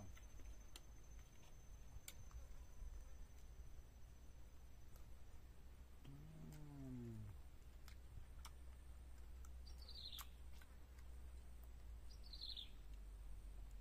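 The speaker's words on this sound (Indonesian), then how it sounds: "Dengarkan suara-suara alam. Itu di sini namanya burung cebria" Faint cebria bird calls in a quiet outdoor setting: one low warbling call, then two brief high chirps a few seconds apart, over a steady hum.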